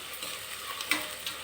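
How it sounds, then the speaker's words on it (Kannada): Masala frying in oil for a biryani sizzles in a steady, moderate hiss, with a few soft scrapes and pops of stirring close by. "ಇದಕ್ಕೊಂದು ಸ್ವಲ್ಪ ಈಗ ಚೆನ್ನಾಗಿ ಬ್ರೌನ್ ಆಗೋವರೆಗೂ ನಾವು ಫ್ರೈ ಮಾಡ್ಕೊಳ್ಳೋಣ"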